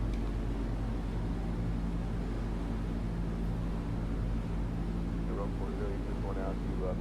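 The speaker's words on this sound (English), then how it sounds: "that good, throaty, mellow sound of the Pratt & Whitney Junior Wasp 985 engines" Twin Pratt & Whitney R-985 Junior Wasp radial engines of a Grumman Goose in Flight Simulator X, a steady, even, mellow drone that continues throughout with no break.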